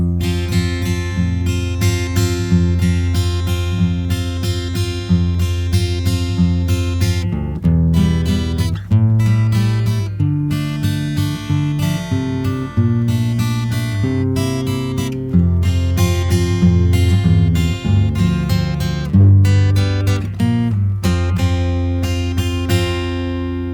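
An acoustic guitar tuned down a whole step strums chords of a song in a steady rhythm, loud and close, with a warm, low, slackened tone throughout and no voices.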